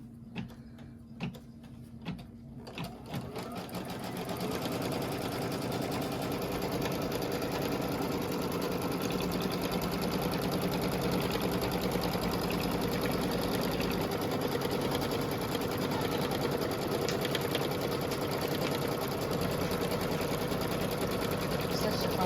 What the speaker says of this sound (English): I am going to keep this same thread in and stitch this in place.